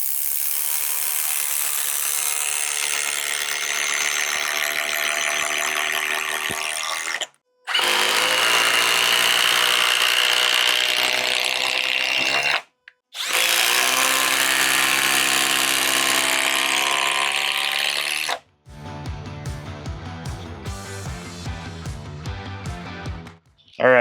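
A DeWALT power tool drives 8-inch TimberLok screws in three long, loud bursts of whirring with brief pauses between, followed by a rougher, stuttering ratchet-like stretch at the end.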